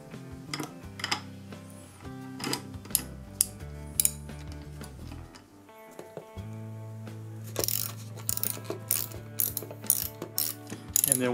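A ratchet working the bolt loose on a Panzer Arms AR12 shotgun during disassembly, rapid clicking pawl runs in short bursts with metallic rattles and clanks between them, close and clear.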